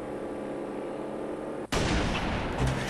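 A single sniper rifle shot in a first-person shooter game, one sudden loud broadband blast that cuts off a steady background hum and leaves a brief rumbling tail.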